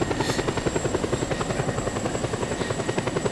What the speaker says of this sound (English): so glad the helicopter didn't despawn.